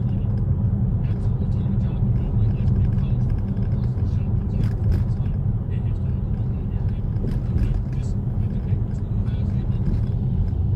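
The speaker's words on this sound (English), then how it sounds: "You could hear that I'm driving on ice." A Tesla Model 3 drives on an icy winter road, giving a steady loud low rumble of tires and road noise with scattered crackles and knocks, while someone talks over it.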